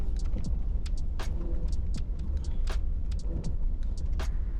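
A local sleeper bus drives through the night on the Mumbai to Goa route, its engine and road rumble a steady loud drone with scattered rattles and clicks from the cabin.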